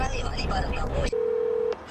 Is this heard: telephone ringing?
yes